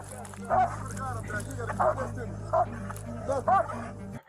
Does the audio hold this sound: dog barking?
yes